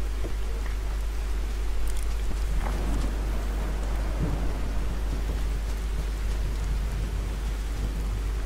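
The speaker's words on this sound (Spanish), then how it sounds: "el mod este que hace que aumente un poco la lluvia" Heavy rain from a modded Fallout 4 game session pours steadily throughout, a dense, even hiss with low rumbling like distant thunder beneath it.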